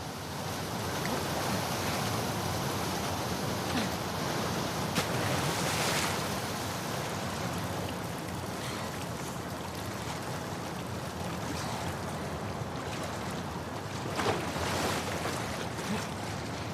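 A fast-flowing torrent of water in The Last of Us Part II rushes as a steady, loud, broadband roar, unbroken for the whole stretch and heard alone with no voices.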